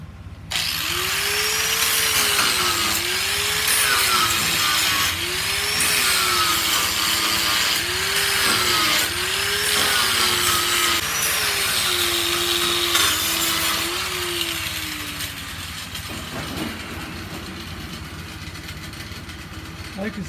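A flap disc on an angle grinder strips paint from the body of a 1979 Ford F150, giving a loud continuous whir and rasp whose pitch dips and rises with the pressure, then winds down to quiet near the end.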